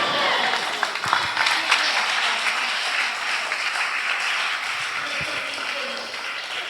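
A church congregation claps together in a sustained, loud burst of applause, dense and continuous, with scattered voices and cheers mixed beneath the clapping.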